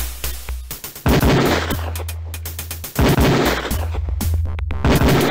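Beretta pistol shots crack out in rapid bursts at an LAPD shooting range in the video game Police Quest IV, loud, close and sharp, with a sustained low game tone running underneath.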